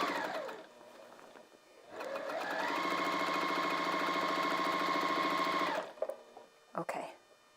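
A sewing machine winds up and stitches fabric in one sustained, rapid mechanical run of about four seconds, then stops, with soft handling noises and brief voices around it.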